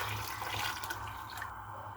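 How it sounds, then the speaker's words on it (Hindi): Water poured steadily into a cooking pot of pulao masala for chicken chana pulao, a continuous close splashing gush lasting throughout. "अब हम इसके अंदर पानी शामिल कर देंगे।"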